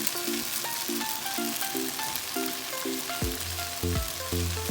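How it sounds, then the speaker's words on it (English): Chicken and prawn fried rice sizzles steadily in a hot pan as light soy sauce goes in, a continuous frying hiss under a repeating musical tune. "We're gonna add some soya sauce now"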